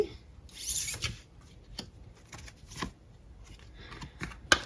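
Tarot cards are shuffled up close in a series of quick papery riffles and soft rubbing swishes, uneven in rhythm, with a sharper tap at the end and no talking.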